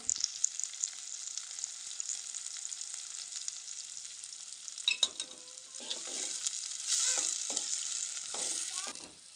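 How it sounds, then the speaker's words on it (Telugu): Green chillies fry in very hot oil for a chicken curry, a steady close bright sizzle with crackling pops, then a few stirring scrapes and a louder hissing burst near the end. "ఇంకా అయితే మనం పచ్చిమిర్చి ఇలా ఉడుకుతుంది చూడండి ఆయిల్లో"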